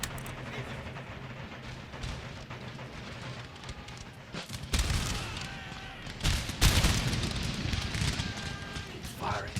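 Musket and artillery gunfire in an Empire Total War battle, with crackling volleys and scattered shots building to loud booming bursts later, while voices speak over the fighting.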